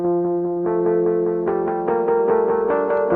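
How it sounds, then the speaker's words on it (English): A looped tonal phrase runs through the Spotykach tape delay effect set to a short echo, repeating notes smearing into layered, pulsing echoes that build and thicken, loud and alone. "So one side can be set to a shorter echo,"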